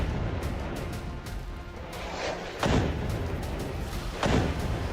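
Two heavy booming blasts from Hamas rockets land a couple of seconds apart over a constant roar of noise, sounding distant rather than close.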